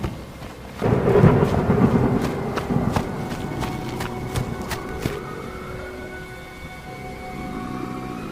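Heavy rain pours steadily while thunder rumbles and cracks in a horror cartoon scene, with loud booming bursts early that fade into a continuous downpour.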